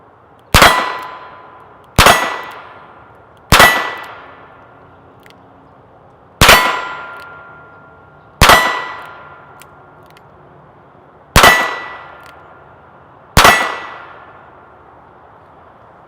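A Smith and Wesson 617 .22lr revolver is fired double action at an outdoor range. Seven sharp, loud, ringing shots come at irregular intervals of one to two seconds, and each one trails off with a short echo. No one speaks.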